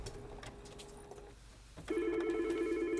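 A telephone in a wakeboard shop rings with a sustained electronic tone that starts after a short pause, loud and steady, following fainter background sounds.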